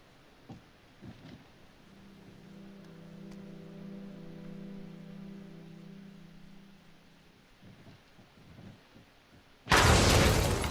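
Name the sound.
explosions in the video game Hidden Agenda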